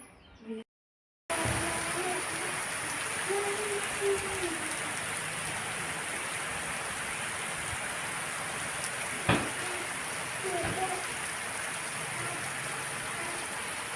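Steady, dense rainfall hisses continuously across the whole stretch after a brief gap, with a sharp knock partway through.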